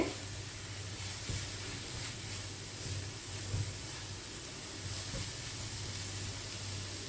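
Sliced onions for shakshuka sizzle steadily in a hot pan, a continuous bright frying hiss with occasional soft knocks of stirring, heard close and alone.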